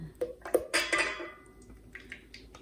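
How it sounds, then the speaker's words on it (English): Spatula clinking and scraping against a bowl while melted butter is added for beignet batter, a few sharp close taps followed by softer scrapes, moderately quiet with no talking. "we have some melted butter, which I'm also going to use my spatula to put in here"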